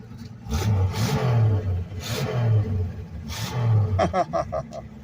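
A 1965 Plymouth Barracuda six-cylinder engine fitted with GM HEI ignition runs with repeated revving surges roughly every second, ending in a quick burst of rattling pulses.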